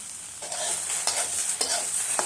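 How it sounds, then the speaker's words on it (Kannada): Okra frying in a pan makes a constant bright sizzle, broken by several short scraping stirs at uneven intervals. "ಮತ್ತು ಚೆನ್ನಾಗಿ ಫ್ರೈ ಮಾಡ್ಕೊಳ್ತೀನಿ"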